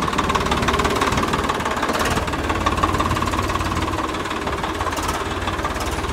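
A Swaraj 855 tractor with a side gearbox runs its diesel engine nearby, a loud, steady, knocking chug with constant vibration and no talking.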